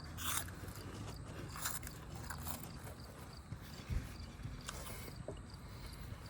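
A spicy chip bitten whole and crunched, several crisp close crunches over a steady outdoor background hum.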